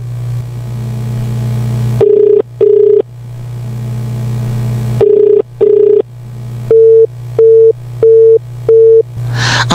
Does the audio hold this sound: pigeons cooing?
no